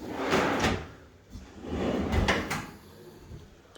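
Deep kitchen drawers for pots slide open and shut in a newly finished kitchen, each stroke a smooth rolling glide ending in a soft thud, repeated several times up close with no talking.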